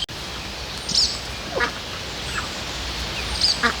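Domestic ducks on a rural farmstead give a few short, faint quacks spaced apart in the evening over steady outdoor background noise.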